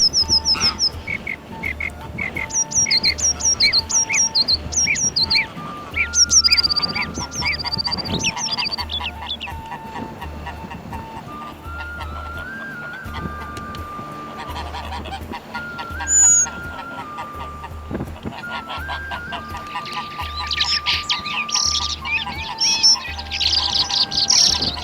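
A large gander honks loudly and repeatedly in protest on a riverbank, its harsh calls mixed with smaller bird chirps, bursts of honking recurring through the scene.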